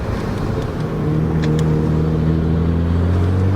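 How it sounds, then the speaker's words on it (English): Nissan Skyline R33 GTR engine droning loudly with a deep, steady harmonic tone that rises slightly in pitch as it pulls, heard from close by. "She's cruising around in a 33 GTR."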